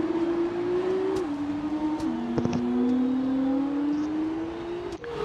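An F2 race car in F1 2019 at Baku held at full throttle, a steady loud engine drone whose pitch climbs, drops with gear shifts and climbs again, with brief clicks over it and no talking.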